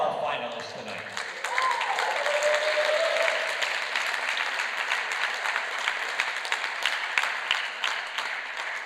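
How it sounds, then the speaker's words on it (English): Audience applause for squash tournament finalists, rising soon after a voice fades out and holding as a steady, fairly distant roar of many hands clapping in an arena, with scattered louder individual claps. "Let's give another big round of applause for all of our finalists tonight."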